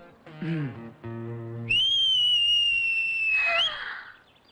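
A person whistles one long, loud, high sustained note, cut off with a brief rising flourish, preceded by a short hum-like voice.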